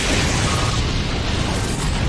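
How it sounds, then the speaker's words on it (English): A loud, sustained blast from the Explosion move in the Pokémon Battle Revolution video game fills the whole moment, with a rumbling, crackling roar. "Annihilated by explosion."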